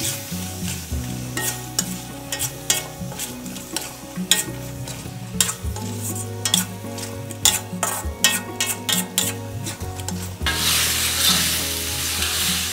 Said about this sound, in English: we're going to add the tofu and stir